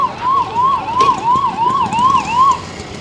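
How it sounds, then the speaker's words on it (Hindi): A loud ambulance siren wails in a steady, repeating rise-and-fall pattern, close by, with no talking. "एम्बुलेंस भी आ चुकी है।"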